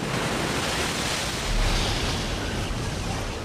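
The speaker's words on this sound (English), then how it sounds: "Winter storms work their way north from Antarctica and pound a battered coastline." Rough surf at the Cape of Good Hope, where winter storms from Antarctica pound a battered coastline: a continuous loud roar of breaking waves with heavy wind noise, swelling briefly midway.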